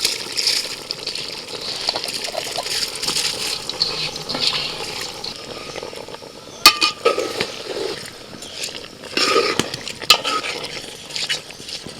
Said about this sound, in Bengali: এবার ভালো করে ধুয়ে নেওয়া চালটা দিয়ে দিচ্ছি